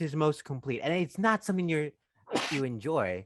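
A single sharp sneeze bursts out in a short gap between stretches of conversation, loud and close, with people talking before and after it.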